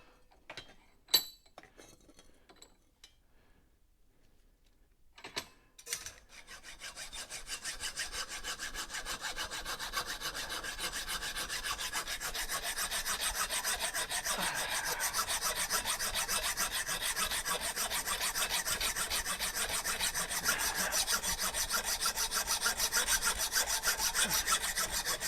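A hacksaw works through metal clamped in a vise, opening with a few faint clinks and taps before settling into a steady, rasping back-and-forth cutting rhythm that grows louder and continues to the end.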